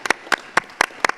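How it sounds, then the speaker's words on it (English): A small audience gives a short burst of sparse, uneven applause, roughly five separate clap clusters spread over about a second, close and fairly loud. "So a little round of applause"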